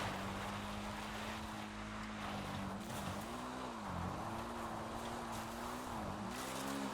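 A car driven in GTA Online on the Cayo Perico island runs steadily, its engine hum rising and dipping with the throttle under a constant wash of road and wind noise, with no talking.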